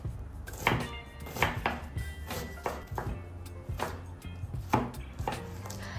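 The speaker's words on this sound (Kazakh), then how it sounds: "1 дана пиязды ұсақтап турап аламыз." An onion is finely chopped with a knife, giving a steady rhythm of sharp close knife strikes on a cutting board, roughly one to two per second.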